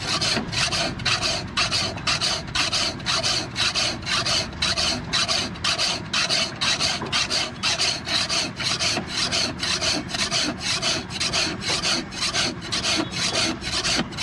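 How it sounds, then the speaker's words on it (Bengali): A hand file rasps steadily across a pair of scissors to sharpen them, repeating quick, regular gritty scraping strokes for the whole stretch, loud and close with no talking. "যেটাতে ঘষে সেই উকো বলে"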